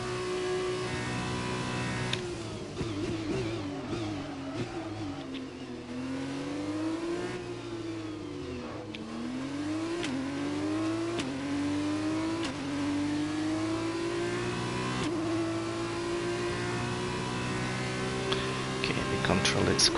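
A Formula 2 car engine in the F1 2021 racing game whines and revs steadily under a voice talking throughout, its pitch rising and falling as the car accelerates and brakes through corners.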